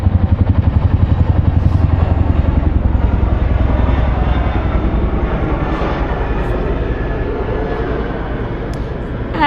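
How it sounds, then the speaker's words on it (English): A helicopter and aircraft fly overhead in Charing Cross, London, with a loud rhythmic rotor chop and engine drone that fade slowly. "Oh, a helicopter as well."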